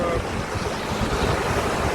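Floodwater rushes loudly and continuously during a tropical storm in Jamaica, a dense close roar with wind buffeting the microphone.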